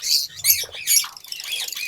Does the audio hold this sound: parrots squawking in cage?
yes